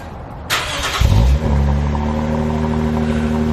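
A 2012 Lexus IS250 fitted with an Invidia Q300 exhaust fires up by push-button start: a sharp click, a brief loud cranking rev, then a steady deep idle rumble close by.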